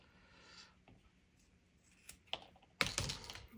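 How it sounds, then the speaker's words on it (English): Scissors cut through a glove up close, a few faint snips and rustles, then a louder sharp cut near the end, with no voices. "We are just gonna cut it. I'm just gonna use the scissors here."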